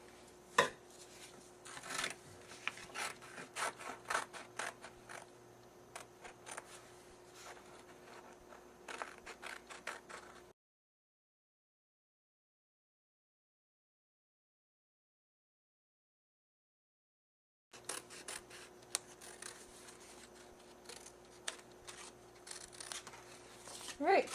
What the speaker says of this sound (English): Now I'm just going to cut it out.